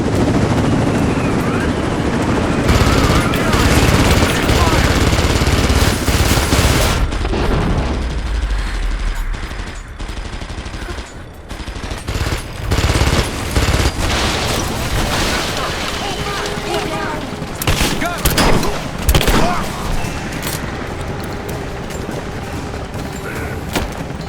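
A firefight rages in the game Rise of the Tomb Raider, with bursts of automatic gunfire and heavy booms cutting in and out over a dense rumble of battle noise, while voices shout and talk throughout.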